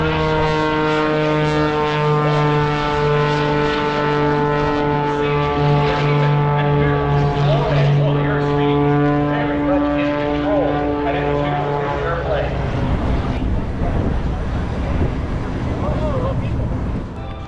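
A propeller airplane flying aerobatic loops drones loudly and steadily overhead, its engine pitch rising and falling as it maneuvers, with a voice talking underneath.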